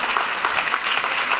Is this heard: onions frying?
no